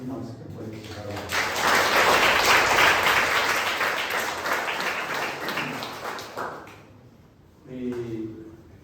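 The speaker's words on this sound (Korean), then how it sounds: "양파에게 이 박수 보내주시기 바랍니다" A church congregation applauds the day's speaker at a youth service, a broad wash of clapping that swells for several seconds and then fades, with a voice speaking near the end.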